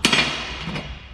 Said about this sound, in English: this weird hammer with this welded on